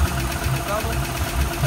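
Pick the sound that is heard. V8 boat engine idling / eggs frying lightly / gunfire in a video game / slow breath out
V8 boat engine idling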